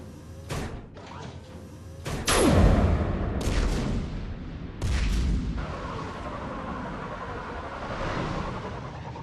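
Guns firing in the video game Mass Effect 3, a series of sharp booming shots at irregular intervals over a low rumbling background, with one heavier blast near the start, no voices.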